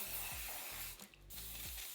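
Quick hissing spritzes from a spray bottle, a few short bursts close by over a low background hum.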